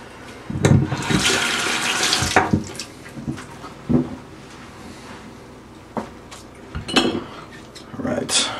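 Tap water runs in short splashy bursts as hands are wetted before combing hair, with clattering handling noises and brief gaps between the pours.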